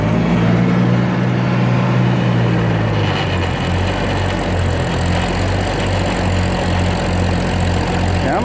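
An Oliver Super 88 tractor engine runs a grain auger at a wheat harvest, loud and close. The steady low chug changes pitch partway through as the engine settles under load into a rhythmic pulsing drone.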